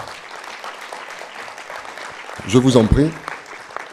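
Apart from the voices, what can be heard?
audience applauding the ambassador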